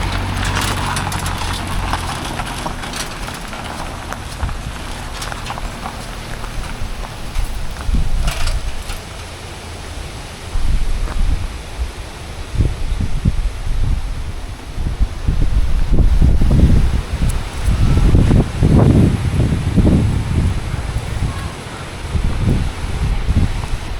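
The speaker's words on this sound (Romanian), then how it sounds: "Bate vântul foarte tare" Strong storm wind roars and buffets continuously, with gusts rising and falling and low rumbling blasts against the microphone.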